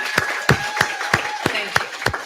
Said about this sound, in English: let's give Karen another round of applause